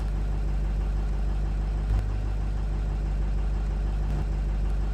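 A Ford F250 with the 6.0 diesel engine idles just after starting, a steady low rumble with a constant even drone throughout, close and fairly loud, with no voices over it.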